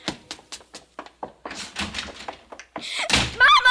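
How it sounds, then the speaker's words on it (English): A house door slams once near the end, a loud close thump after a run of quick hurried footsteps and knocks, ending in a burst of sharp bright noise. "Margaret, haven't I told you not to slam the door?"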